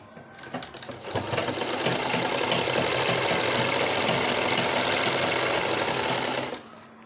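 A sewing machine stitches a newborn's cloth langot diaper, starting with a few slow needle knocks before ramping into a loud, steady, close whir that cuts off abruptly near the end.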